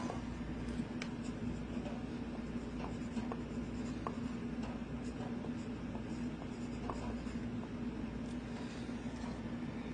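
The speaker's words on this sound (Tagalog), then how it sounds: "isulat mo ang buo niyang pangalan" Pen writes a full name on a very small piece of paper, a steady scratching with short strokes that runs throughout, close up and alone.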